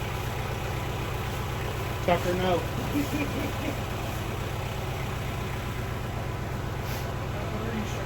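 A truck engine idles with a low, steady rumble throughout, heard close by under a few quiet spoken words.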